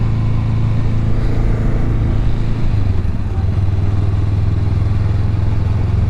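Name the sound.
motorcycle riding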